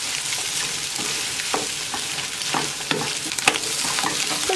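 Eggs and potatoes frying in a pan, a constant bright sizzle with several scraping strokes of a utensil stirring the mixture at uneven intervals, close and fairly loud.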